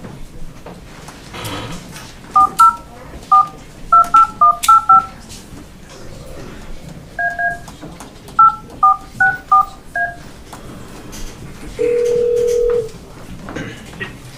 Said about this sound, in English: I'll let you dial it. Okay, yeah, dial.